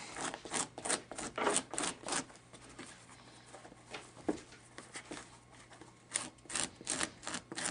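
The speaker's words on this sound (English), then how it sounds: "Kind of scuff this cartilage up on the back side a little bit." Ear cartilage is scuffed and scratched on its back side while being prepared for a taxidermy mount: close, dry rasping strokes in quick rhythmic bursts, pausing briefly midway before the scratching resumes.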